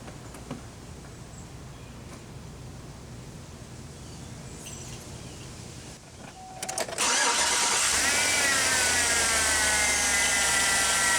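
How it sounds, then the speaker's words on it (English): A car engine cranks and catches, then settles into a steady, loud running rumble after a quiet stretch of background noise. "start the engine"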